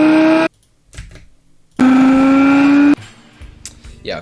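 A recorded car engine whine playing through a filter comes in two bursts, each a loud sustained tone with a steady rising pitch. Quieter clicks and talk fill the gaps between them.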